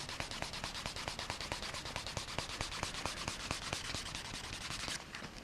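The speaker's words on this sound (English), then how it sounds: "I might spend a bit more time doing some burnishing." Leather edges of a handmade pen sleeve are burnished with steady, fast back-and-forth rubbing strokes, a dense rhythmic friction sound heard close up and alone.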